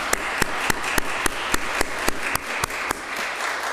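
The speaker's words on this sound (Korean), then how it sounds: "잠깐 일어나시고 박수로" A church congregation at a Sunday worship service applauds to welcome a visitor, a dense wash of clapping punctuated by loud, sharp, regularly spaced individual claps, steady throughout with no talk.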